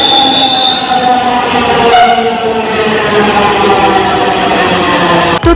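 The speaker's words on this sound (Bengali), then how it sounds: "আমরা ট্রেনের জন্য ওয়েট করছিলাম আর এরই মধ্যে চলে এলো ট্রেন" A metro train pulls in at a platform with loud, sustained rumbling and high wheel squeal close by, ending in a sharp clunk.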